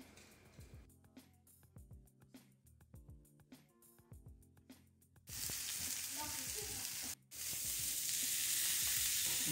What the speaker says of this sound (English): while our pork chop still cooking on medium-low heat, but nice searing